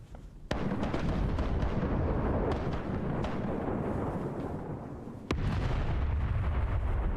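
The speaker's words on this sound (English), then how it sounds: "Cannons, fire the cannons." Ship cannons boom in a pirate sailing video game, two sharp blasts several seconds apart, each followed by a heavy, sustained rumble of battle noise.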